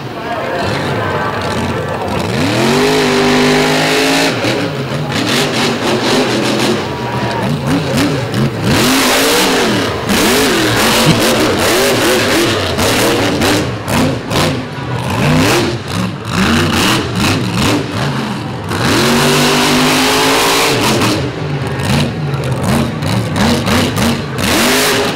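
Mega truck at a Monsters 'n' Megas show run, its engine revving hard in repeated loud surges that rise and fall over sustained roaring, close and continuous, with an announcer talking over it.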